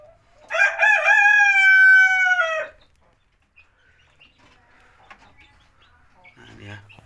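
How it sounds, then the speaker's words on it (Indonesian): A Cemani chicken crows once, a loud, clear, drawn-out cock-a-doodle-doo lasting about two seconds, followed by near silence with faint rustling. "Ini ayam cemani."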